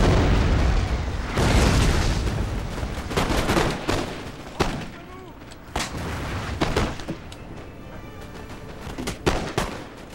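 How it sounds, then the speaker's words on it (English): Musket volleys fire in a Napoleonic battle in the Napoleon: Total War video game, with dense crackling bursts and booming shots layered over a continuous roar of combat, loud and close and repeating throughout. "They're firing volleys."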